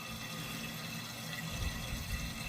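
Toilet tank filling through a newly replaced fill valve once the water supply valve is opened: a steady hiss of rushing water, with low gurgling joining partway through; no talking.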